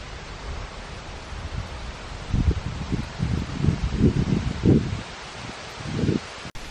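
Light outdoor wind on a hot summer day, a soft broadband hiss with gusty rustling bursts that swell and fade over several seconds, no voices.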